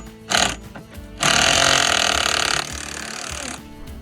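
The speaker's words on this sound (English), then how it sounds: "I would finally be able to rattle these bolts up." Impact gun tightening the wheel bolts on a Land Cruiser with a makeshift socket: a short rattling burst, then a longer loud buzzing run that eases and fades off, close by.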